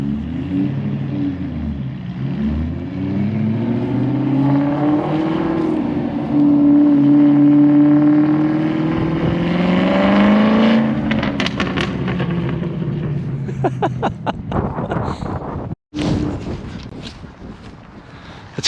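Aston Martin V8 Vantage with a Velocity AP X-pipe, cats and Stage 2 tune, revving loudly nearby; the engine note climbs and falls steadily, with sharp crackles near the end, while occasional voices are heard.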